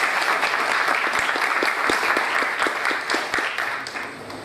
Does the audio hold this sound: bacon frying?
no